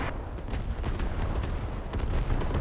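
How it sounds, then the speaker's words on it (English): Artillery barrage in the video game Squad, a dense run of overlapping booms and blasts rumbling continuously with sharper cracks breaking through, loud and sustained without pause. "Big boy explosions. Yeah, is this a barrage?"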